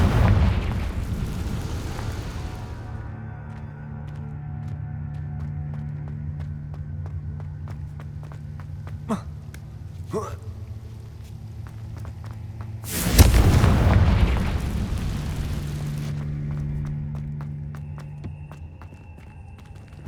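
Confringo spell blasts in Hogwarts Legacy land as heavy booms, with one big explosion near the end and a sustained rumble and hum running under the game's music.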